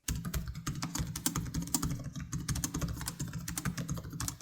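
Steady, brisk typing on the keyboard of an Asus ProArt PX13 laptop, a continuous run of close, crisp key clicks and taps with no talking.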